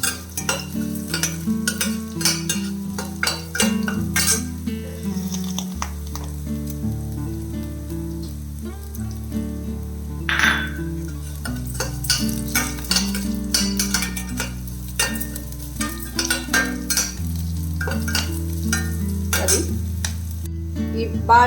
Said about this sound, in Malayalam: നമ്മുടെ ഇഞ്ചി ഒന്ന് വഴണ്ട് കിട്ടണം